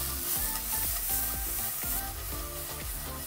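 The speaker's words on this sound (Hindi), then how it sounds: "साथ ही इसमें हम डालेंगे कड़ी पत्ता।" Curry leaves and onion sizzle loudly in ghee for cheese upma as they are tossed in the pan, a dense, continuous frying hiss mixed with the rhythmic scrape and clatter of stirring, close up and with no talking.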